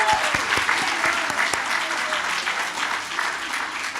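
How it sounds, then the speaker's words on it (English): Steady applause from a large audience at a university campus graduation ceremony, a sustained wash of clapping heard at a moderate distance for the whole stretch, with a few voices and scattered sharp claps standing out. "let's give Tom a round of applause to send him off properly."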